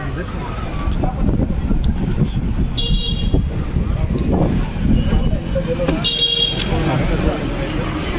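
Vehicle engines and traffic in Kolhapur while boarding a booked car: a continuous roadside rumble with two short horn toots, one near the middle and one later, and people talking over it.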